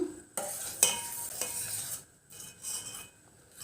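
A spoon stirs and scrapes semolina boiling in milk in a pot for rava pudding, giving close, uneven scraping strokes with a soft bubbling hiss underneath and short pauses between strokes.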